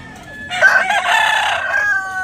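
A two-year-old derby-size gamecock rooster crowing once, loud and close, one sustained cock-a-doodle-doo lasting under two seconds.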